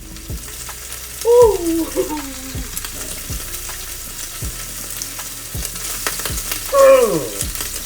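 Bacon frying in a hot pan on a stovetop, a steady low sizzle with sharp pops and crackles scattered throughout, plus brief exclamations from a person nearby.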